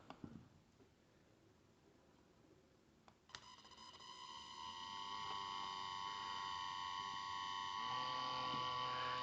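A small electric RC car motor, in a budget TT02 spec racer build, starts after a click and whirs steadily at low speed, its whine rising slightly and settling into a steady hum near the microphone.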